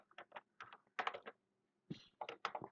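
Quick bursts of typing on a computer keyboard while working in an Excel spreadsheet, clustered keystrokes clicking in short runs with a brief pause between.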